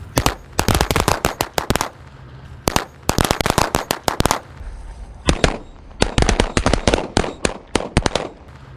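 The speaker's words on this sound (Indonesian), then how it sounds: "kita nyalakan mercon korek smoke SMS 1 tor ini, guys. Langsung satu pak." Long strings of firecrackers, a whole pack lit at once, going off in rapid, loud bursts of popping, broken by short pauses before the next crackling volley.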